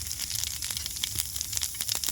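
Whole dried chillies, nigella seeds and cumin crackle and sizzle in hot oil in a kadai, a soft, busy hiss scattered with sharp little pops, fairly quiet and close.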